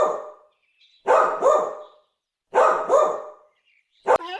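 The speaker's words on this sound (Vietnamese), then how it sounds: "Dog." Dog barking nearby in a series of sharp woofs: a single bark, then two quick double barks, ending with a brief yelp.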